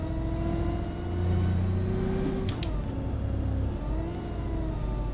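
An Enviro400 City double-decker bus on London route 45 labouring up a slight incline: a steady, close engine drone with a whining tone that rises and falls slightly as the revs climb.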